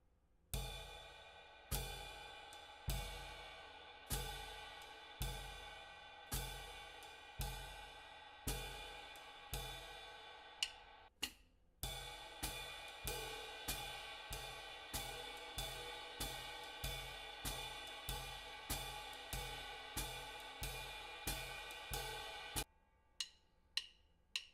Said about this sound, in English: Here's a video example of the entire jazz or swing pattern.